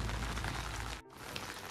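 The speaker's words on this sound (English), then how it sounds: "Rain stop hone wala hai." Rain falls heavily outdoors in a steady dense hiss, cutting out for a moment before resuming slightly softer.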